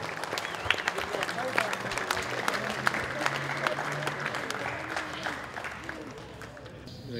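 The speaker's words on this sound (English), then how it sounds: "Big round of applause for the pilot" Audience at an air show applauding the pilot of a Mosquito aircraft, a steady burst of clapping from a sizeable crowd that tapers slightly toward the end, with faint talk underneath.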